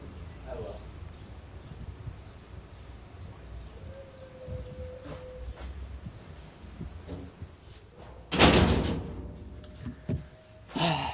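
A metal door slams shut with one loud, sharp bang, followed by a few softer knocks, against a quiet room with faint background noise.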